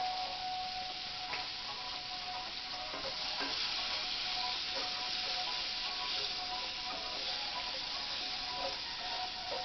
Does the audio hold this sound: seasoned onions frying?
yes